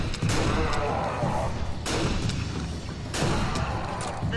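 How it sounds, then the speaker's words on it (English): A tunnel collapses in the video game Aliens vs Predator (2010) as loud, rumbling crashes and booming debris impacts surge in repeated waves. "The tunnel has collapsed."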